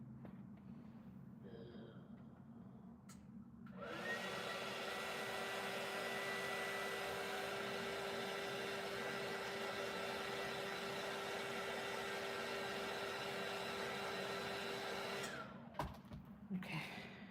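A hair dryer blows on fluid pen artwork to dry it, switching on after a few seconds into a loud, steady close-up whoosh with a constant hum, running about eleven seconds before cutting off, with faint handling noise around it.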